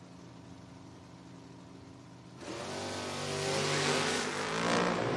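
Drag race launch between an 1980 Camaro and a 1966 Chevy: a quiet idle suddenly erupts into a loud, roaring full-throttle run of engines that builds and sustains to the end.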